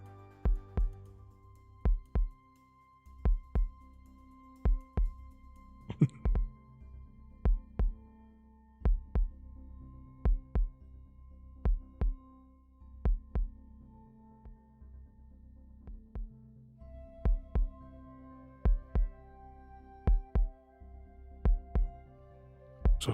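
Game heartbeat in a Minecraft HermitCraft Season 7 world: steady paired thumps, lub-dub, repeating about every second and a half across the whole stretch, loud and close over a low background hum, with no talk.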